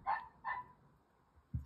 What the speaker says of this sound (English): That is my dog barking outside